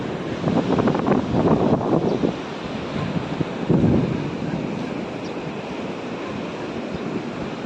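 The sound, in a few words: waves and wind at the seaside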